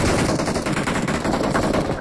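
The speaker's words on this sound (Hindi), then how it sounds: "गोलियाँ इतनी चल रही है" Rapid automatic gunfire rattles in a PUBG-style battle royale game, with dense overlapping bursts firing almost without pause. It is loud and close throughout.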